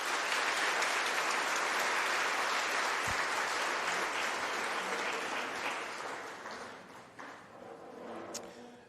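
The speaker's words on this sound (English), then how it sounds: "Can we give them a big round of applause?" A large crowd at an agricultural awards ceremony applauds loudly and steadily, the dense clapping holding for several seconds before gradually thinning and fading out.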